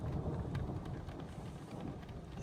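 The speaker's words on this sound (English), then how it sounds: "You can see the rain coming down now." Steady rain falling during a thunderstorm, a dense continuous hiss with low rumbling underneath, fairly faint and unbroken throughout.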